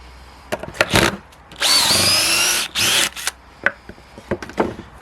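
A DeWalt DCD795 cordless drill whirs in short bursts and one longer sustained run, boring a hole in wood, loud and close with clicks and handling noise between runs.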